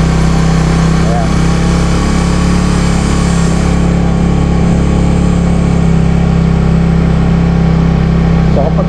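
A Suzuki Raider Fi motorcycle engine brakes downhill in a low gear with the throttle eased off, giving a loud, steady close-up drone with a strong low hum and little change in pitch.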